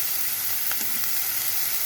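Eggs and vegetables frying in oil in a pan produce a dense, even sizzle close by, with a couple of faint stirring scrapes midway and no voices.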